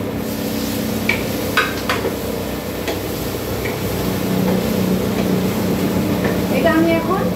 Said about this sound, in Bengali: এখন আমি ডিমটা এবং আলুটা যেটা কেটে রেখেছিলাম আগে সেটা এবার এর মধ্যে দিয়ে আরও ভালো করে নাড়াচাড়া করে একসাথে ভেজে নেব